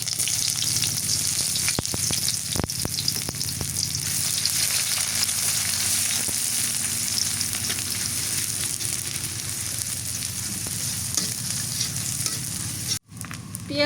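Chopped onions fry in hot mustard oil with a bay leaf in a kadai, giving a steady, dense sizzle close up with occasional stirring scrapes, no talking.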